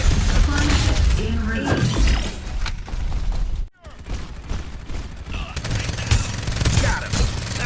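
Gunfire from a mobile shooter game, dense bursts and shattering impacts running almost throughout under game voice callouts, with a brief drop to near silence midway before the firing resumes loud and close.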